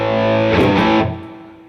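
Electric guitar through a distortion pedal with the gain turned up, one loud saturated chord ringing out and fading away.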